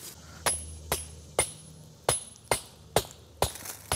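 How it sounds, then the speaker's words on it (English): A hammer striking a chisel against rock while hunting for agates near Suffern, New York, lands about eight sharp, ringing blows at a steady, unhurried pace, close and distinct with no talk. "let's take out the chisel and hammer and let's start breaking some rock."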